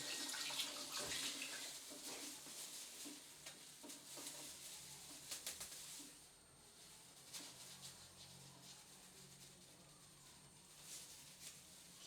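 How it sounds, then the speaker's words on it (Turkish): Tap water running while a lemon is washed under it, a soft steady stream with splashes and handling patter, faint and close, with no talk over it. "Limonu da yıkıyorum."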